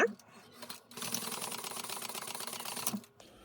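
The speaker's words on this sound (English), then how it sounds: "It's definitely going to have to backstitch" Sewing machine stitching a fabric bag add-on, a steady rapid mechanical whir that runs for about two seconds after a brief start, close by, with a soft voice at the very beginning.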